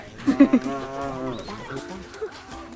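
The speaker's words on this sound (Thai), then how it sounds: "มี ควายเดินอันนั้นหมีอันนี้ควาย" A water buffalo at a zoo in Laos gives a short series of deep, close moos and lowing calls, with faint crowd murmur and background noise around it.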